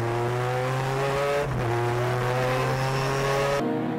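Two Honda S2000 race cars battle on a circuit, their high-revving engines droning loud and near with rising pitch, a brief dip as a gear shifts, then a sharp cut.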